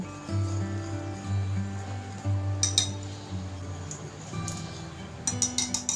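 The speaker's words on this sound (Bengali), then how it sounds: "এই শুকনো মিশ্রণটাকে আগে খুব ভালো করে মিক্স করে নেব" Dry ingredients of flour, baking powder, baking soda and a pinch of salt are mixed in a bowl, giving light clinks and scraping taps of a utensil over a faint background hum.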